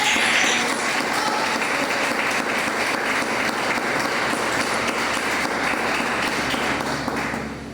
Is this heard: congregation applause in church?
yes